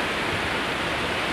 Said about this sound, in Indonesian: inilah sungai guys